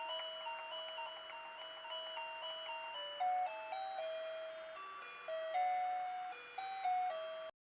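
A wireless doorbell chime plays a string of clear electronic melody tones, one after another, close and steady with no talking, then stops abruptly.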